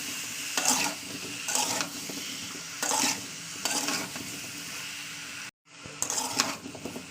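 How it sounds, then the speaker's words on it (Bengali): Spices frying in oil in a pan while cooking a bottle gourd, coriander and egg curry: steady sizzling broken by repeated scraping stirs, with a brief pause near the end. "তেলের সঙ্গে মশলা তেল একসঙ্গে ভালো ভাজা করে নেবো"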